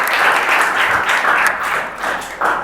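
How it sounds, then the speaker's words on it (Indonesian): A classroom group claps for a student named Dimas, a dense, steady burst of many hands that stays loud throughout with no voices over it. "Beri tepuk tangan untuk Dimas ya."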